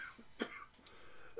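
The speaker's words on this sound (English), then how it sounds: "Hopefully the coughing is over" A person coughs once, sharply and close to the microphone, with a few faint throat sounds around it against a quiet room background and no speech.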